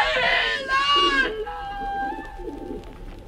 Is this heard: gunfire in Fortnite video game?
no